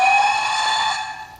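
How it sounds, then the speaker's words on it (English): A DCC sound decoder in a Hornby GWR King model locomotive sounds a steam whistle, one steady bright tone held about a second before fading, loud and close with no talking. "Then I'm going to toot the whistle,"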